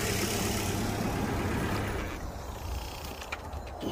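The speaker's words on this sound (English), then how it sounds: "Switch the car off here." A car engine idles with a steady rumble and is switched off about halfway through, leaving a quieter background.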